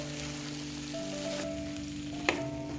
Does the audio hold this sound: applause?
no